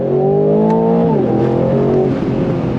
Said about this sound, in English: So you're definitely gonna get up to speed with that twin turbo V8